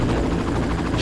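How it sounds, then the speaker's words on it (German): A helicopter in the video game Far Cry drones with a loud, steady low rotor throb through the whole second, and a brighter hiss swells at the very end. "Scheiß Hubschrauber."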